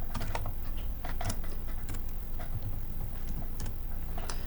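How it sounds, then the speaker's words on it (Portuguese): Rapid clicking of keys on a computer keyboard while entering a math formula into a Word document, irregular close taps over a steady background hum. "E aqui eu digito qualquer função que eu quiser."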